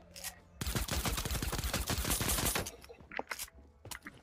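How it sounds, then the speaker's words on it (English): A suppressed pistol in Fortnite fires a fast string of close, rapid shots lasting about two seconds, followed by a few scattered single shots and game sounds. "I can shoot really fast with the suppressed pistol."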